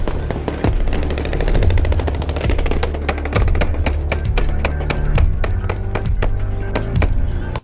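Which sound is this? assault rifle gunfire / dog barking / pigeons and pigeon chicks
assault rifle gunfire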